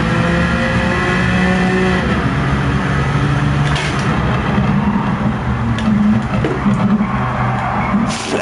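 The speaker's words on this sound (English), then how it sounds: "So rev it out to the nuts then." Jaguar XJ220 engine in the racing game Gran Turismo 7 drones loudly and steadily at high revs, a constant close roar with slight rises in pitch throughout.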